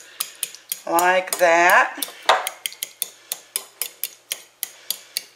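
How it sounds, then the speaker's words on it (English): Squash being mashed in a bowl for savory squash patties: a steady, evenly spaced run of sharp clinks and taps of a utensil against the bowl, close by, with a brief spoken phrase near the start. "you take the squash, put it in a bowl, and you mash it up a bit"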